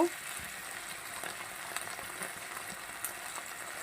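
Four green chillies fry in a pan, giving a soft, steady sizzle with occasional light clicks from stirring. It sounds close but fairly quiet, and no one speaks.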